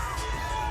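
Crowd at a Mr. Olympia bodybuilding contest cheering and shouting in a dense, continuous wash of voices, loud and steady throughout.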